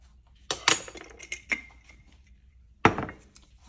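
A spoon clinks against a bowl while stirring a yeast mixture with a teaspoon of sugar for Kamut French baguette dough: a few sharp, close taps in a quick cluster, a pause, then one more clear strike.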